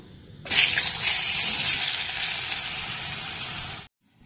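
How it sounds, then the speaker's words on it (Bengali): Carrots dropped into hot oil in a pan burst into a loud hissing sizzle that settles into a steady, slightly fading fry, then cuts off abruptly. "ওই তেলের মধ্যে গাজরগুলো ভেজে নেব"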